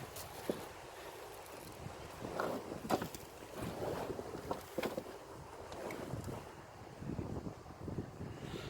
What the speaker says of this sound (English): It's windy again today.